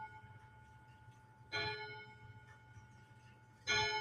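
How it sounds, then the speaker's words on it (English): A clock chimes twice, each strike a bright ringing tone that rises over a steady low hum and sustained tonal drone, the second stroke coming about two seconds after the first and sounding fairly close. "thinking about that clock. I don't know if you can hear it chime."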